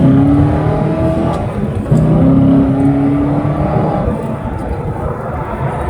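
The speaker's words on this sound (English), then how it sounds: "The LS7 sounds amazing, but from factory, I think it's way too tamed." A Corvette with a 7-liter LS7 V8 and stock exhaust rumbles through downshifts, a steady throaty drone with rising and falling revs, fairly close and moderately loud.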